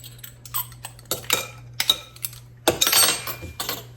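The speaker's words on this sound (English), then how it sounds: "now we're going to give it another good mix" Utensil scraping and clinking in a bowl while mixing carrot cake dip with vanilla extract, irregular bursts of clatter and knocks, close and fairly loud, with a steady low hum underneath.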